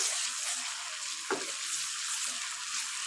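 Steady sizzling of garlic and ginger frying with onions in a pan, with a brief scrape of stirring partway through.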